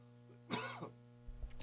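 A single short, sharp cough bursts out on a radio talk show, followed by a brief throat-clearing sound before the room settles.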